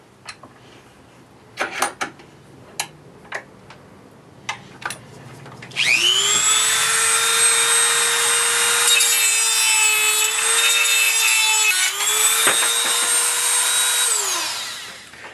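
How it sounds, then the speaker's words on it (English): A Dremel rotary tool cuts through a threaded tripod mount bolt, preceded by several sharp clicks and knocks, then a loud, high-pitched whining grind held steadily for about eight seconds before winding down. "I'm going to cut it to about 1/2 inch long with my Dremel"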